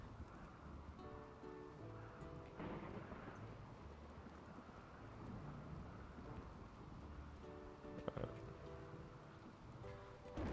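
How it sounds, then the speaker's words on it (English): A rainy thunderstorm in the video game RimWorld: a steady hiss of rain under low rolling thunder that swells now and then, with faint sustained tones of game music. "It is a rainy thunderstorm, but we should be fine."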